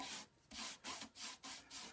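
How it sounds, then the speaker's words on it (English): A brush strokes a 1 pound cut shellac sealer onto a guitar body, with six soft, even swishes in a steady back-and-forth rhythm, close and quiet, with no voices. "I'm going to apply it with a brush."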